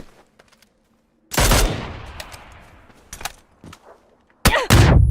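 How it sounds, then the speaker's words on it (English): Grenades burst in the PUBG video game, loud close blasts cracking out in quick succession with long decaying rumbles, a pair of heavy detonations near the end, no voices over them. "He's being bombarded by nades and the guy's approaching his building. He's really close. But the audio from the nade is deafening."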